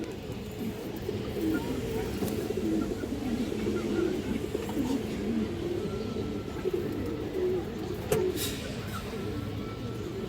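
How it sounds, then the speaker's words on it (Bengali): Pigeons coo in a low, continuous murmuring burble through a busy loft, steady and moderately close, with a faint brief clink near the end. "এই যে দেখেন কবুতরটা দর্শক অসাধারণ একটা কবুতর"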